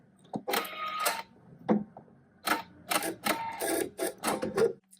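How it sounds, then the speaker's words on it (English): A PFAFF sewing machine finishes its final stitch sequence and automatically trims the thread, producing close bursts of rapid mechanical clattering separated by short pauses, with no voices. "It'll finish off the last stitch sequence that I'm in and automatically cut my thread."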